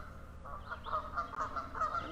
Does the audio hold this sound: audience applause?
no